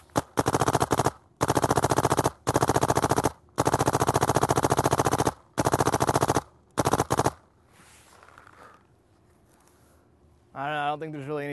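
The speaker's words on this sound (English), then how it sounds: "Might as well shoot the gun and see how it sounds." Loud, rapid bursts of a DM10 paintball gun firing in quick strings with short gaps, up close, followed by quiet and then a person talking.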